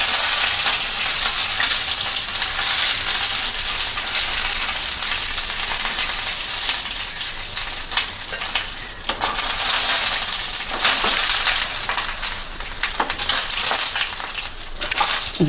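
Curry leaves spluttering and crackling in hot oil in a pan while a Kerala-style beetroot kichadi is being cooked, a loud, continuous dense sizzle with sharp pops throughout, no voices.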